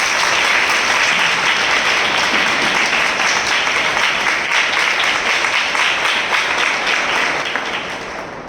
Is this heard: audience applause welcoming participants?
yes